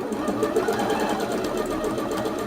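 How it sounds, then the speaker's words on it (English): A Bernette B38 sewing machine runs steadily while stitching a decorative heart pattern, giving a continuous, fairly loud mechanical whir with a rapid needle rhythm and no talk. "I'm just going to run a few little hearts through so you can see how it's going to come out."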